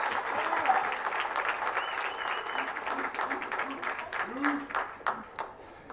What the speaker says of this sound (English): so good round of applause.